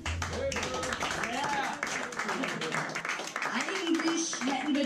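Audience clapping and cheering for the bass player at a small live band show, a dense, lively patter of many hands with voices and calls mixed in throughout.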